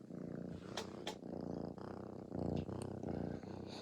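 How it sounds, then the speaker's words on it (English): A cat purrs close up in a steady, rumbling rhythm of breaths, quiet and continuous with no talking. "That cat is purring like a motorboat."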